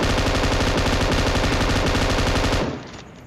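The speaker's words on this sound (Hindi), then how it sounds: "फिर M249 से स्प्रे करके डाउन किया।" An M249 light machine gun in the shooter game PUBG fires a long, rapid unbroken burst of loud, close automatic shots that stops abruptly near the end, leaving a quieter background.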